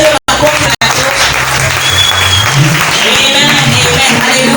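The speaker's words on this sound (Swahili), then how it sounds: "Pigia Bwana Yesu makofi mazuri." A church congregation claps loudly and continuously during a praise and worship session, a dense close wall of applause with two brief breaks near the start.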